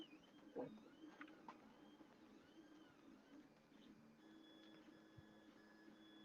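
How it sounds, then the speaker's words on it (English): A 3D printer runs quietly in the background with faint whirring stepper-motor tones, small creaks and mechanical ticks in an otherwise quiet room, ending with a sudden louder knock. "You can probably hear my printer in the background"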